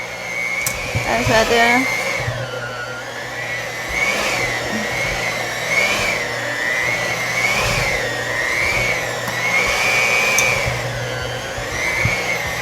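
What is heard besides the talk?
dough mixer machine kneading mahamri dough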